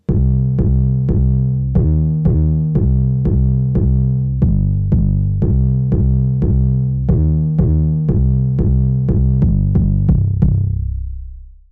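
A deep, booming 808 bass made with the Algoritm synth in Reason pulses in a steady rhythm with punchy repeated hits, loud and alone, ending with a long fading tail.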